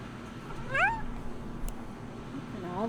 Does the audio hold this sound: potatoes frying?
no